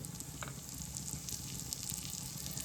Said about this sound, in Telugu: నెయ్యి వేడెక్కాక జీలకర్ర వేయాలండి